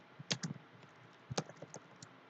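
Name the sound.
typing commands on a computer keyboard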